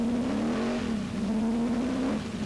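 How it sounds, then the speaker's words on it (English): A TVR Tuscan race car spins across the road onto the grass during a 1993 race, its engine droning loud and steady with a tonal whine throughout, no voices over it. "Car spun across the road, onto the grass, Chris still fighting for control."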